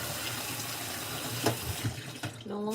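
Rice being washed under a running tap, with a steady close stream of water and occasional splashing and handling sounds.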